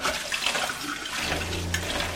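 Water runs from a tap as canning jars are rinsed in an RV kitchen, a steady close splash and hiss with a low hum rising near the end.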